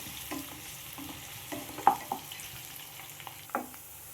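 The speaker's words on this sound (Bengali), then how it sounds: "পেঁয়াজটাকে আমি 3-4 মিনিটের মতো ভালো করে ভেজে নেব" Sliced onion fries in a pan on a clay chula for red saag, with a faint steady sizzle and several spatula scrapes and taps at uneven intervals.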